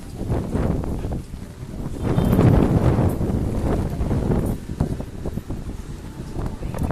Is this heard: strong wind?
yes